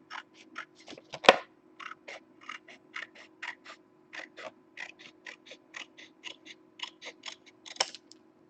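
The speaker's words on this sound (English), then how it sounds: "Where are the scissors?" Scissors snip paper for scrapbooking in a quick run of about two dozen crisp clicks, close and fairly quiet, with a steady faint hum underneath and one sharper clack near the start.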